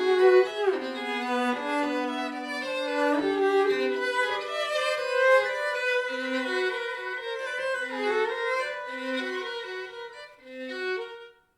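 A cello carries the melody while a violin accompanies in the same key and register, the two bowed lines blending closely in a sustained, clear chamber duet with no talking.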